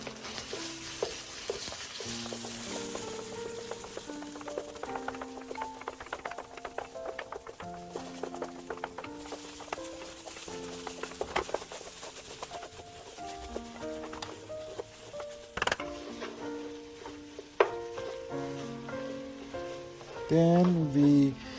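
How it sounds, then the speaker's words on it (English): Tomato paste frying in a pan for Persian green bean rice (loobia polo), with soft sizzling and intermittent stirring and clattering under background music and a few brief louder knocks. "5 tablespoons of tomato paste, and start to frying the tomato paste"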